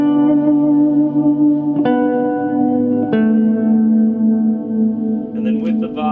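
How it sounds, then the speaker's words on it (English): Guitar played through an Orange CR120 amp with a secondary ambient reverb, sustained chords ringing out with long washy tails, a couple of fresh strums cutting in, loud and close. "I took my secondary reverb and to start getting into ambient sounds."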